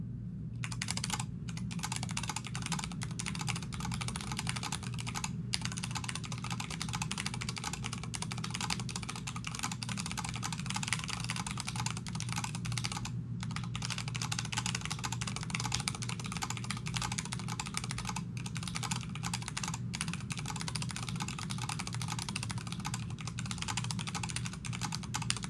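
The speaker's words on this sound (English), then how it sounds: "vtk-8300 with cherry red RGB switches and dye-sublimated uniprofile keycaps." Steady, continuous key clatter from a RACE3 vtk-8300 mechanical keyboard with Cherry Red RGB switches and dye-sublimated uniprofile keycaps, dense rapid typing close up with no talking.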